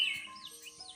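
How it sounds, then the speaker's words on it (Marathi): Birds call faintly outdoors: a couple of short, high chirping sweeps in a single quick burst against a quiet background. "पक्षी ओरडतायत."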